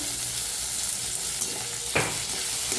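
Chopped tomatoes roast in a pan for masala brinjal, giving a steady, moderate sizzle with an occasional stir or scrape cutting through the frying hiss.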